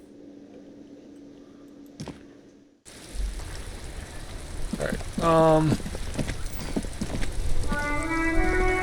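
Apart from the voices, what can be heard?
rain in the video game Disco Elysium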